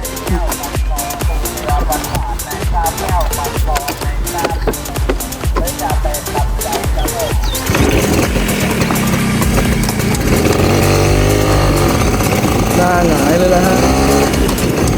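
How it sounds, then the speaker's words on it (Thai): A Yamaha Mate 100 motorcycle engine idles with a steady, rapid pulsing beat close by, then gives way to a denser, louder and more continuous sound in the second half. "เดี๋ยวเรามาฟังเสียงเครื่องยนต์กันครับ"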